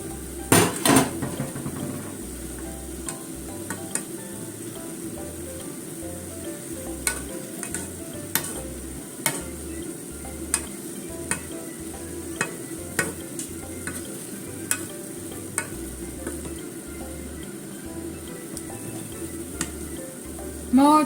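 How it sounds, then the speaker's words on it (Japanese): A cabbage pancake steam-frying in a pan gives a soft, continuous sizzle under a lid, punctuated by sharp clinks and taps of utensils against the pan at irregular intervals. "裏もちょっと蒸し焼きにしますね。"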